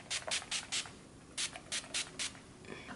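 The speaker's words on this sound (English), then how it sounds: "I'm gonna take my Skindinavia finishing spray." Skindinavia makeup finishing spray misted in eight short, close hissing bursts, four in quick succession, a pause, then four more, with no talking.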